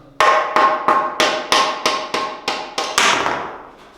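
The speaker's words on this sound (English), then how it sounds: "Use a rubber hammer" Eight sharp, evenly spaced knocks of a rubber hammer striking metal while knocking a press-fit bicycle bottom bracket bearing out of the frame, about two per second, loud and close, the last blow ringing out and fading.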